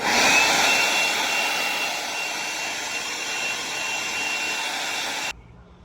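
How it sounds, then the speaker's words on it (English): A powerful air blower roars steadily while drying a freshly washed dirt bike, a loud continuous rushing hiss that holds for several seconds and then cuts off abruptly. "we got it all air dried with the blower"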